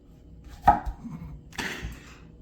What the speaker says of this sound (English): we gotta cut ourselves a nice thick slice of tomato and onion